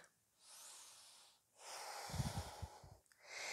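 Slow, close breaths drift in and out during a vinyasa yoga flow, with soft airy inhales and exhales and a brief rough snort-like rasp in the middle.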